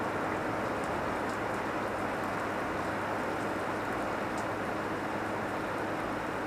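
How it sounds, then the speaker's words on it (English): Steady, dense rain hissing and pattering without a break, even and fairly loud throughout, with no voices. "It's just raining."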